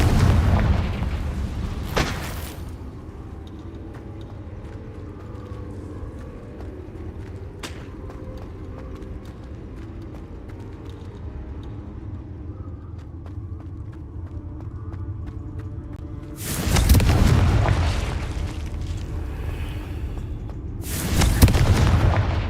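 Confringo spell explosions in the Hogwarts Legacy video game burst out in two heavy, roaring blasts near the end, after a brief sharp crack at the start and a long stretch of low ambient rumble.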